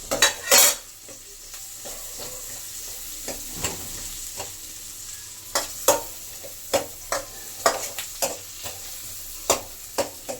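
Onions frying on low flame in a pan, a soft continuous sizzle broken by a run of sharp, regular clinks and scrapes as a utensil stirs and knocks against the pan, close up.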